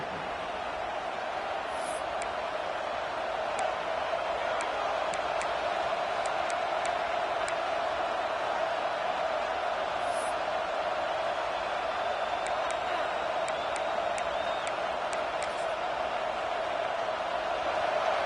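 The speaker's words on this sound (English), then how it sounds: "this crowd trying to help keep them there" A football stadium crowd during a college football game roars as a constant, dense wash of noise, with no break or lull and no talk over it.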